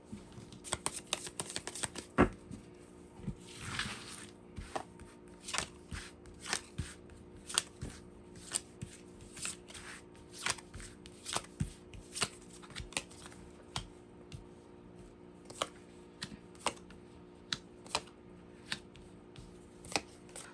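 Tarot cards being shuffled and drawn: a quick riffle of papery flutters near the start, then a steady run of sharp, close card snaps and slides every second or so, with no talking.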